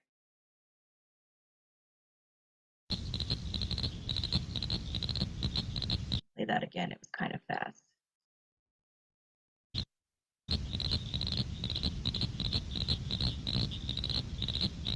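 Rapid clicking calls of cricket frogs in dense, steady bursts, played back twice with a pause between, with a voice speaking briefly in the gap.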